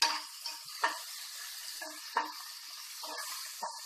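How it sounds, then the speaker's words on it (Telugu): Sliced onions with curry leaves and salt frying in a pan for a mutton curry give a steady close sizzling hiss, broken by scattered crackles and soft stirring clicks. "ఈ ఉల్లిపాయల్ని కొద్దిసేపు బాగా ఫ్రై చేసేసుకుందాము"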